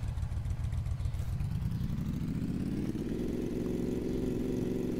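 A motorcycle engine in a video game set in a small town runs steadily at idle, then its low rumble climbs gradually in pitch as it revs up, loud and continuous with no talk over it.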